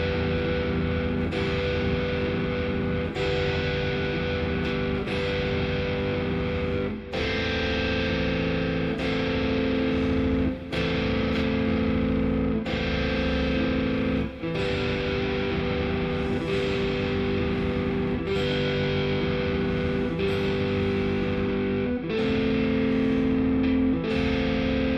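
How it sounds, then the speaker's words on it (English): Distorted electric guitar plays full chords voiced as stacked triads, each chord ringing out for a few seconds before the next strum, loud and steady with no talking. "So if I play it the old way, just stacking triads, it sounds something like this."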